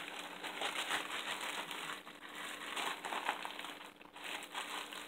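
Food being rewrapped in plastic wrap, a steady stretch of close crinkling and crumpling with soft rustles running throughout, no voices.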